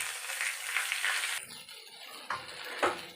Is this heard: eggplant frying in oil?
yes